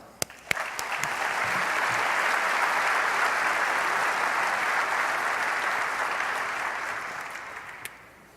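Audience applause welcoming speaker Bob Lackey to the 141st annual meeting, opening with a few separate claps, then swelling into steady, full clapping that fades out after about eight seconds.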